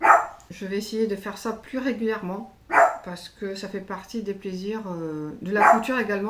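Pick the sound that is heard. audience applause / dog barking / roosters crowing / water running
dog barking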